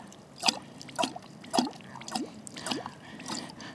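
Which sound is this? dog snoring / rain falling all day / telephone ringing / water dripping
water dripping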